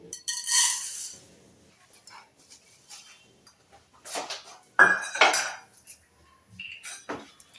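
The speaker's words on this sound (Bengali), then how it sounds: "দেখুন এই বাটির 1 বাটি আমি চিনি নিচ্ছি।" Bowls clink and clatter in a kitchen while sugar is measured out for syrup for jicama jalebi, with a few scattered knocks and scrapes, fairly faint and intermittent, no talk heard.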